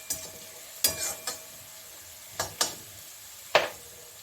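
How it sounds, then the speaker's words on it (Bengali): Sliced onions frying in oil in a pan with a bay leaf for a tangra fish curry: a low steady sizzle broken by a few sharp scraping stirs, heard close and alone. "এই যে পেঁয়াজটা আমার এরকম ভাজা হয়েছে,"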